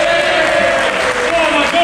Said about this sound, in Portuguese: Por favor, uma grande salva de palmas ao Juan Estômago Cruz.